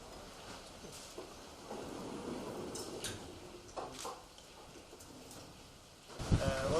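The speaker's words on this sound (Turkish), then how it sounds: "çok şiddetli yağmur vardı" Heavy rain pours down in a continuous wash of noise in Hatay after an earthquake, with a few sharp knocks and rumbles breaking through near the end.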